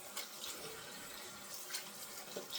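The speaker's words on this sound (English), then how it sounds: "rinse the hands" Tap water runs steadily into a sink as hands are rinsed, a soft close splashing that continues alone with small spikes of splatter.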